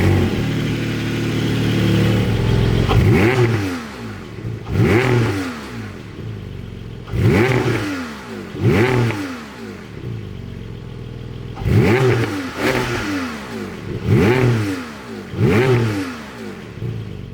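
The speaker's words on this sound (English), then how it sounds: "let's see what this Gran Turismo Sport version of the Boxster can do in its PDK form with the lovely 4-litre engine back" The 4.0-litre engine of a Porsche Boxster GTS with PDK gearbox pulls hard through repeated rapid upshifts, each rising howl cut by a quick shift before climbing again, loud and close with no talking.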